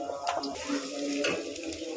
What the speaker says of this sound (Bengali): পেঁয়াজগুলো আমি লাল করে ভেজে নেব